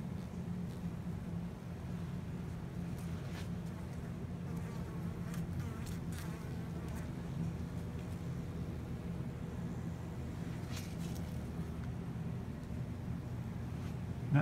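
Honey bees buzzing around the entrance of a beehive colony, a soft continuous hum with individual bees passing close now and then, fairly quiet and steady with no voices.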